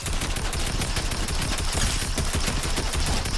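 Rapid, dense Fortnite gunfire crackles nonstop at close range, a loud, continuous burst of overlapping shots filling the whole span with no voices over it.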